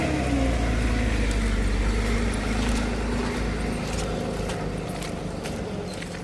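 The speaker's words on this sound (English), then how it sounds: "I'm gonna get the truck and back down." A pickup truck rolls along an off-road trail, a steady low engine rumble with crunching ground noise, fairly close and gradually easing slightly in level.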